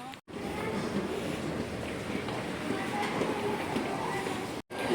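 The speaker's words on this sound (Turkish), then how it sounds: "Metroya girdik şu an." A constant loud roaring rumble of a moving metro train in Bursa heard from inside a carriage, with faint muffled voices beneath the noise.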